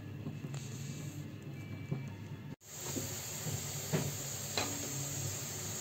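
Paratha roasting on a hot griddle with ghee and a little oil gives off a steady soft sizzle and hiss, close and fairly quiet, with a brief dropout partway through.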